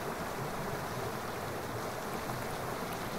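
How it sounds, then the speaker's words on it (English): Powerscourt Waterfall tumbling over sharp rock outcrops into a valley, a steady, fairly faint rushing wash of water heard from a distance with no voices. "The thundering sound of the waterfall as it tumbles over the sharp outcrops of"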